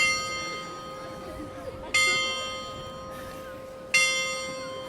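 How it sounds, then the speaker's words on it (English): A church tower bell in the Netherlands strikes for eleven o'clock, with three resonant bongs about two seconds apart, each ringing out and decaying over a low outdoor background of murmuring visitors. "They've got these bells, and this is a definite sound of church tower in the Netherlands."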